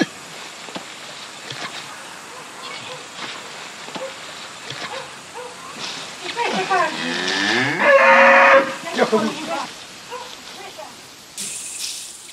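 A cow on a rural Ukrainian farm moos loudly and at length near the middle, with quieter background noise and light patter before and after it. No one speaks.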